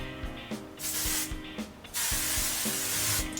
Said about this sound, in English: and then you just want to spray